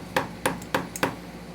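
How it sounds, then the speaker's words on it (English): Four sharp, dull knocks spaced evenly apart, a rubber mallet striking something solid during a motorcycle tire and sprocket change, with a faint lighter tap between the last two and quiet room tone around them. "I get to use my brand new rubber hammer for the first time."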